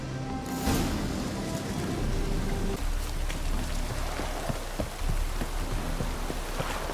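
Steady heavy rain pours down in The Witcher III: Wild Hunt, a dense constant hiss with scattered drop patters throughout, and a low voice briefly heard near the start.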